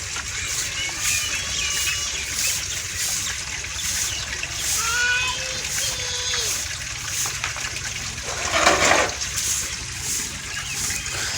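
Water splashing and trickling while planted garlic is watered in a garden plot, a continuous wet patter with a louder gush near the end, steady background hiss and a voice talking now and then.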